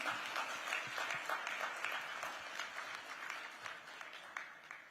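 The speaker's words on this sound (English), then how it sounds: "To the whole Digit team, a huge round of applause" Audience applause at a tech awards ceremony, the Digit Zero1 Awards 2024, a steady dense wash of clapping held at an even level for several seconds with no voices over it.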